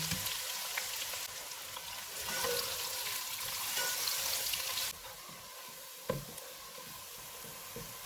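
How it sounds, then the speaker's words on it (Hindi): Three onions frying in hot oil in a pan for Kashmiri chicken pulao, a steady close sizzle and crackle that swells briefly midway, then settles quieter, with one sharp clink near the end. "ऑयल गर्म हो गया, इसमें 3 प्याज डालेंगे और इनको गोल्डन ब्राउन होने तक फ्राई करेंगे"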